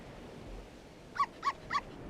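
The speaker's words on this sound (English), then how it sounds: "A dog." Three short, evenly spaced dog yips or whimpers from the I Spy Fantasy video game sound faintly over a quiet background hiss.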